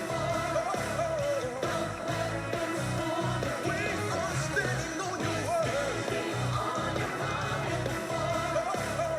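A short section of a song repeats on a loop, with busy, fast instrumental licks over a steady, dense band mix that plays continuously and fairly loud throughout.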